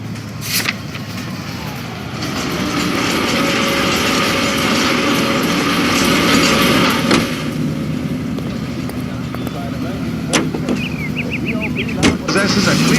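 A car in the video game L.A. Noire drives along with a steady engine drone and road rumble, joined by a few sharp clicks and a brief chirping sound near the end.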